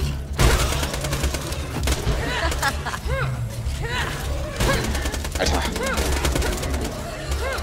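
Rapid weapon fire in Borderlands 2, a dense run of sharp loud shots with the gun's heavy recoil, mixed with other game effects while players talk over it.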